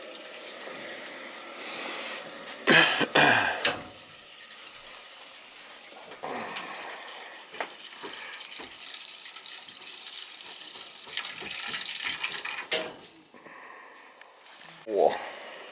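A leaking boiler relief valve is purged, letting out intermittent bursts of gushing, hissing water and air with quieter gaps between spurts, up close.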